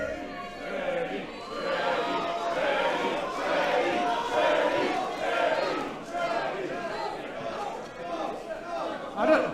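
Wrestling pay-per-view arena crowd roaring and cheering in a sustained wave of massed voices, rising and falling over several seconds with a final swell near the end.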